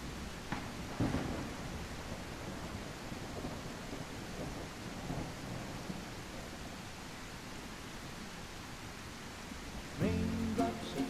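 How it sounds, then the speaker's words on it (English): Rain and thunder in a video game: a steady, fairly faint hiss of rainfall with low rumbles underneath, continuous throughout, with a brief brighter burst of sound near the end and no talking. "Raindrops are falling on my head."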